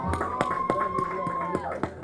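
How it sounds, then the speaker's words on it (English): An audience at a 2018 university graduation ceremony in Dubai claps in a steady, even rhythm of sharp beats under a sustained tone, with a voice heard faintly in the mix. "Let's clap for her, guys."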